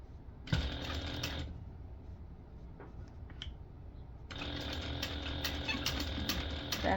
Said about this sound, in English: right now I'm top stitching this using a 1/8 inch seam allowance